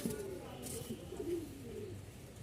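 Pair of Lahori pigeons cooing softly in low, rolling murmurs, close by and fairly quiet, over steady background noise.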